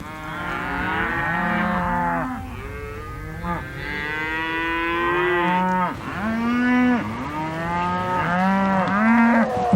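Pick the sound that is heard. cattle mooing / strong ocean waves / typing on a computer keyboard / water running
cattle mooing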